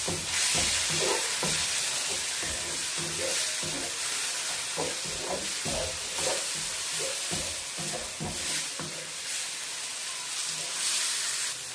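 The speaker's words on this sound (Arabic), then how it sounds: "والكلام الجميل ده كله اتشوح مع بعضه وريحته الخطيره ظهرت" Onions with black pepper and cumin sizzle steadily in a hot pan as a spoon stirs them, giving repeated scraping strokes over a constant frying hiss, close and fairly loud, with no talking.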